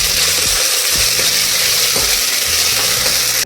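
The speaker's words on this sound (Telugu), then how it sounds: "ఇప్పుడు దాంట్లోకి అల్లం వెల్లుల్లి పేస్ట్ వేసుకోవాలి ఇప్పుడు ఒకసారి అవి పచ్చివాసన పోయేంత వరకు ఫ్రై చేసుకోవాలి" Ginger garlic paste fries in a pan with a loud, steady sizzle, punctuated by faint scraping stir strokes, heard up close with no talking.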